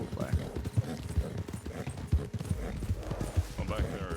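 A horse in the RedM western role-play game runs with a quick, rhythmic clip-clop of hooves at close range, while voices talk over it.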